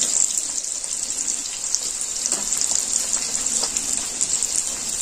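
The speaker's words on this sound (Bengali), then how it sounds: "এবার আমি সবজিগুলো ভেজে নেব।" Chopped beans and carrots frying in hot oil in a pan, giving a steady, continuous sizzle at moderate loudness with faint crackles throughout, no voices.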